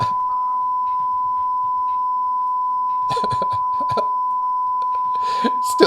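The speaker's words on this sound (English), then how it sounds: "Whenever I say a fucking swear word, it automatically bleeps me." A censor bleep, a steady pure tone running almost unbroken through the stretch, with a voice talking over it in bursts toward the end.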